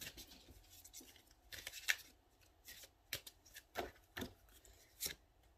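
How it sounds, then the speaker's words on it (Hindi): Tarot cards being shuffled by hand, a run of soft riffling and slapping bursts at an irregular rhythm, close and fairly quiet with no talking. "मैं इसको अच्छे से शफल कर दूं।"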